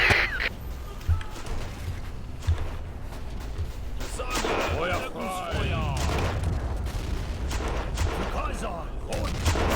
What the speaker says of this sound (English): of course they're shooting through the bushes